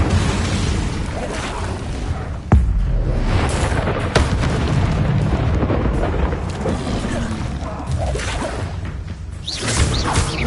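Confringo and Incendio fire spells cast in a Harry Potter video game on PS4: loud booming blasts and whooshes, with a sharp hit near the middle and dense rumbling explosive noise throughout, over faint game voices.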